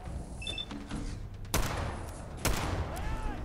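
Two sharp, loud gunshots crack about a second apart during a headshot in the video game Fallout 4, each followed by a short ringing tail over low game ambience.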